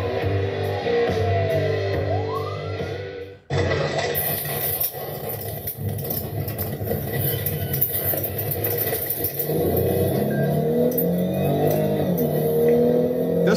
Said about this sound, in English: Doesn't that sound like a supercharger?